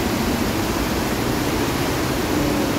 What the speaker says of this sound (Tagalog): Ang baha yan na magkakusog